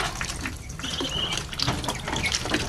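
Light splashing and dabbling of water as ducklings drink, a continuous wet patter with small bursts, close by and fairly soft.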